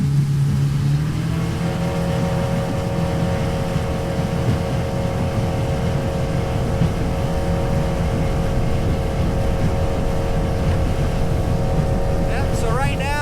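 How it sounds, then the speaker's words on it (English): Boat engine at full throttle, running near 35 mph over rough, choppy water on a very windy day, a loud steady roar with constant wind and hull noise and no letup. "I give it full throttle, that'll bump us right around 35 miles an hour."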